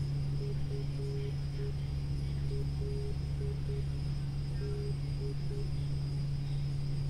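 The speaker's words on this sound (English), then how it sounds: "The Morse code, if you listen closely to that, now watch it." A VOR navigation beacon's Morse code identifier beeps through an aircraft cockpit headset during IFR training, short and long tones in repeating groups over a steady engine drone and electrical hum.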